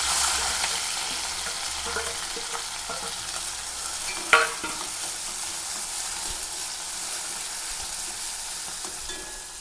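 Chopped onion, garlic and chili fry in oil, a constant close sizzle with occasional stirring scrapes and one sharp clack partway through.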